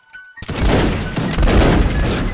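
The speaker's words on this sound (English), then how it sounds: "Excellent volley." A musket volley fired by a line of soldiers in a video game, a sudden loud ragged crash of many shots after a short quiet pause, followed by continuing rolling reports and echo.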